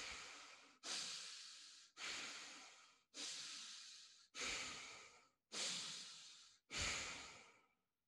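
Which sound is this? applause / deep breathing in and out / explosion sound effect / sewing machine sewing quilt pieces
deep breathing in and out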